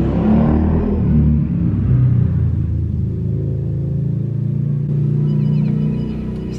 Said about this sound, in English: It's a loud muffler.